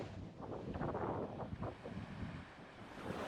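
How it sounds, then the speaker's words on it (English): Surf washes in and out on a beach on the Oregon coast at a distance, a soft, continuous roar of waves mixed with gusty wind noise. "I love the sound of the waves crashing on the beach."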